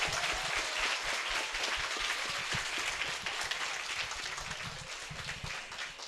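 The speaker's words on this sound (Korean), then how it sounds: "여러분 다시 한번 큰 박수 부탁드립니다" Large audience applauding steadily at a youth talk concert for industrial designer Kim Young-se, dense clapping throughout at even loudness, tapering slightly toward the end.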